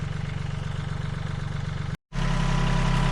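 A tractor pushing dirt into a pile for a gun range backstop chugs in a loud, steady, pulsing engine drone, broken by a brief dropout of silence before the engine resumes.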